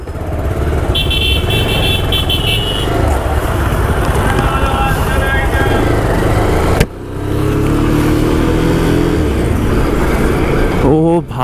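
Motorcycle ridden away from a service showroom into traffic, a loud continuous engine drone with wind rush close to the rider, a car horn sounding early on and a rider speaking over the noise.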